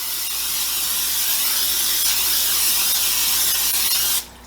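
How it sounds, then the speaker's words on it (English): A loud, continuous hiss of aerosol canola oil cooking spray onto a pan lasts about four seconds, then cuts off abruptly into near quiet. "Spraying my pan with a generous amount of canola oil."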